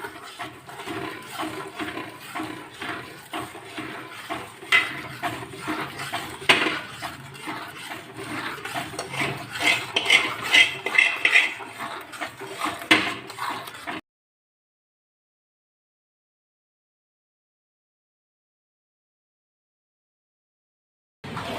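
Sugar syrup being stirred by hand into an adadiya mixture in a pan, giving continuous rubbing, scraping and sloshing for about fourteen seconds, then silence until a brief sound returns at the very end.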